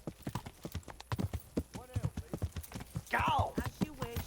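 Rapid rhythmic horse hoof clip-clops in a steady galloping pattern from the video game Kingdom Come: Deliverance, with a brief whinny and a few voice fragments mixed in.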